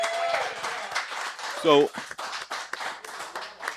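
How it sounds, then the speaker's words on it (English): A small group gives a quick round of scattered claps for a guest on a recovery talk show, soft and brief, mixed in with someone talking over it. "Give John a nice round of guys. applause."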